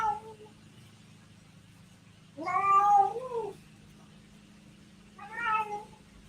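A Siamese cat meows loudly and insistently from close by, two separate drawn-out yowls a few seconds apart over a low steady room hum, with no talking.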